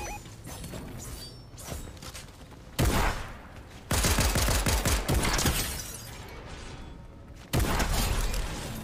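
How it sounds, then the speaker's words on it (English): Gunfire in the video game Fortnite: dense bursts of rapid shots and sharp cracks in several loud clusters, with a busy game soundscape between them and no talking. "Dude, bunch of shooting."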